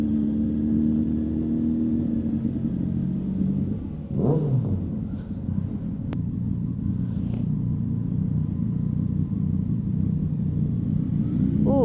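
A Ducati motorcycle engine rumbles steadily while riding, a low continuous drone with a brief rise in revs partway through, heard from the rider's position.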